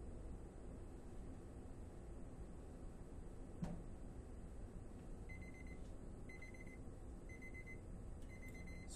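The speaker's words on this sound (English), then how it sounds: "As you see, we have our timer here." Kitchen timer going off in a quiet lab after a 45-minute wait, giving a steady series of short electronic beeps in evenly spaced pairs, moderately faint over a low background hum.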